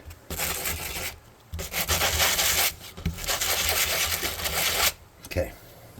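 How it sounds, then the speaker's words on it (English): Sanding block rubbed over wood while building a small round house craft: several bursts of loud, coarse scraping strokes, each lasting a second or more, separated by brief pauses, close to the listener. "I'm going to get the sanding block."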